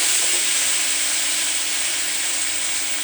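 Bourbon chicken fries in oil in a wok, a loud, even, continuous sizzle heard up close for the whole stretch, with no voices.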